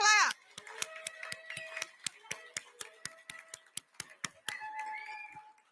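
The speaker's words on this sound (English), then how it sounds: "Give God a big hand clap." A church congregation claps hands in a steady, rhythmic beat, the sharp, close claps evenly spaced over soft organ-like music.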